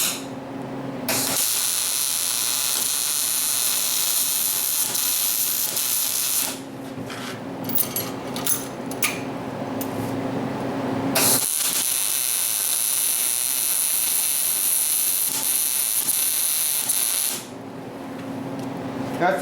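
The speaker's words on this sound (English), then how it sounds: "Got the frame welded." Electric welding on a steel trap frame, long stretches of loud crackling, hissing arc noise broken by short pauses, close up, with no talking.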